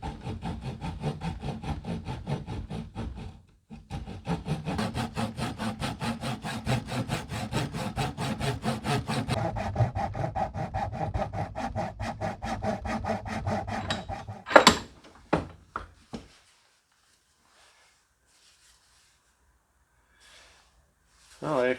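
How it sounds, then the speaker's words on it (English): A handsaw cuts a slit into the top of a wooden hatchet handle during a vintage Boy Scout hatchet restoration: a steady back-and-forth rasping strokes for about eleven seconds, then a few sharp knocks before quiet. "So right now I'm going to cut that slit on the top with a handsaw."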